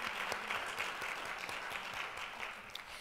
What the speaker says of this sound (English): let's give them a very special round of applause